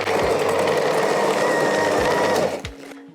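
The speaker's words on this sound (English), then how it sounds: "We're going to cream our butter and sugars together now." A stand mixer creams butter and sugar for a chocolate orange loaf cake, a loud, steady close motor whir with a rhythmic beating rattle that cuts off near the end.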